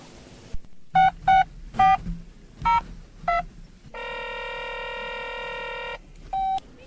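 Telephone keypad tones as a number is dialed: a run of short, separate beeps in uneven rhythm, then one longer steady tone lasting about two seconds and a final short beep, clear and close.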